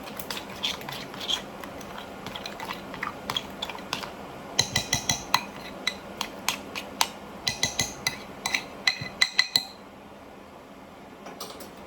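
Honey and butter sauce stirred in a pan for a quick chicken dish, heard as clinking utensil scrapes and taps against the pan, a rapid run of sharp metallic clicks in the middle over a low sizzle-like background, then quieter at the end.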